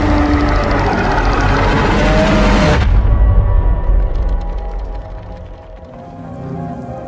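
Steady rain hissing down in an open-world game, a broad loud wash that cuts off abruptly partway through, leaving quieter low rumbling and faint scattered patter.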